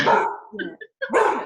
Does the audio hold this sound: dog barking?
yes